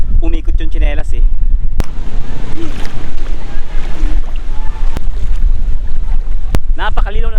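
Strong wind gusting along the clear Daraitan river in Tanay, Rizal, a steady loud roar of wind buffeting the microphone from start to end, with someone talking briefly at the start and end and a few sharp knocks.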